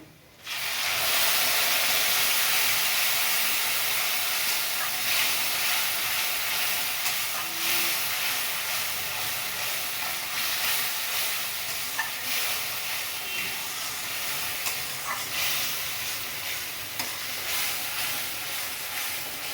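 Spices such as ginger, cumin, chili, tomato and cashews going into reddish-fried onions in a pan for a doi katla fish curry, giving a steady, loud sizzle and hiss with faint stirring throughout.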